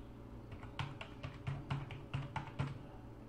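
Typing on a computer keyboard while entering a login password, a steady run of close, quiet key taps in an even rhythm, with no one speaking.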